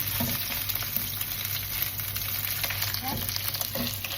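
Meat frying in oil for a vegetable sauté, pumpkin and long beans to follow, giving a steady close sizzle with light stirring scrapes throughout.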